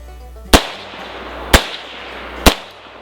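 Three sharp, loud M1 Carbine rifle shots fired outdoors, evenly spaced about a second apart, each a hard crack with a short decaying tail over a low background hum.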